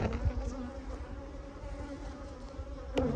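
A large honey bee colony buzzes in a continuous, moderately loud drone during a hive inspection, with individual bees flying close past now and then.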